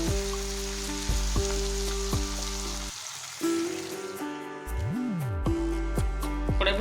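Ridge gourd and vegetables sautéing in a wok, a steady close sizzle with a few stirring scrapes and a brief quieter gap midway, alone without talk.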